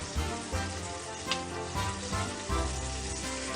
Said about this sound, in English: fry these for a few minutes on each side so it gets a nice crispy coating